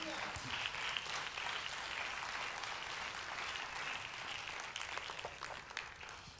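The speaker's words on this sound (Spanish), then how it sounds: "Dele palmas al Señor esta noche." A church congregation claps hands during an evening worship service, a dense, steady wash of many palms sustained throughout at moderate level, with scattered voices mixed in.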